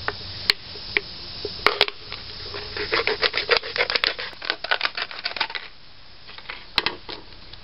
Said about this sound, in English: Cut off the bottom of the bottle.